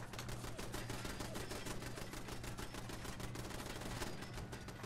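Automated turrets in the video game Fallout 76 fire a rapid, continuous stream of shots, dense and steady throughout with no pauses, a busy mechanical rattle mixed into game sound.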